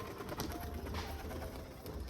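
Rajshahi pigeons coo softly and repeatedly, a low murmuring call carried over steady background noise, with no talking.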